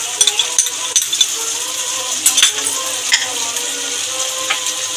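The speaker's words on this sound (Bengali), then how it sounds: "এবার টমেটো পেস্টটাও দিয়ে দেবো।" Tomato paste goes into hot, spiced oil in a pan for a Bengali katla fish curry, giving a steady close sizzle and frying crackle with light clinks of a spoon.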